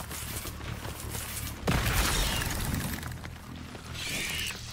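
A fire spell is cast in Hogwarts Legacy with a sudden, loud whooshing burst of flame that roars for a moment and then fades under ongoing game ambience.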